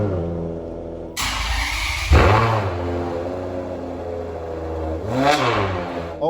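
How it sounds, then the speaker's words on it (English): A Ferrari 599 GTO V12 fires up with a sharp starter catch and loud bark, settles into a deep, rumbling idle, then gives a rising, snarling rev near the end, close and unaccompanied by voices. "GTO engine start."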